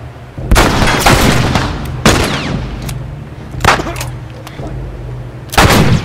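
Gunshots from a firearm in The Last of Us video game: several loud, heavy blasts spaced irregularly about a second apart, each with a booming tail, over a low humming background.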